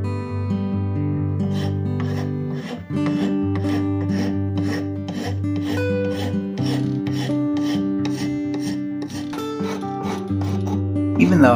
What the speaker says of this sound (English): Now for some filing and sanding to make it fit.